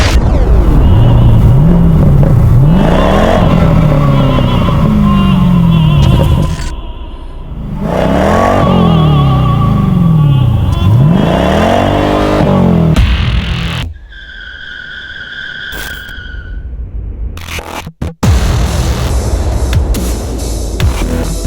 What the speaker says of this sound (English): let me show you what the car can do in sport mode.